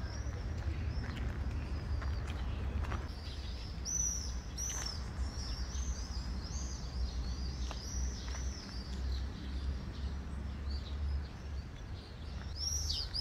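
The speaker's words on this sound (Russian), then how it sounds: "Птички поют." Small birds chirp and sing outdoors on a spring day, high bright calls repeating through the clip over a steady low rumble of background noise, fairly faint and distant.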